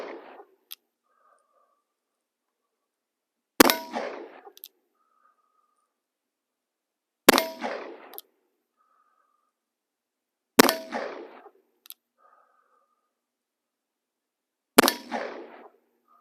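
Wells Fargo revolver firing four loud, sharp shots spaced roughly three to four seconds apart, each with a short ringing decay into near silence.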